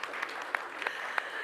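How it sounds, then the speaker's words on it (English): Conference audience applauding a panellist at a horticulture event, a faint, sparse patter of claps with a few sharper individual hand claps standing out. "let's give Justine a robust round of applause"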